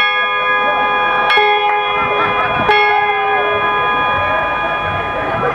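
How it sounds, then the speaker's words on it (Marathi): A temple bell rings in two or three sharp metallic strikes, each leaving a long resonant hum, alongside a steady tonal drone. "ही घंटी होती"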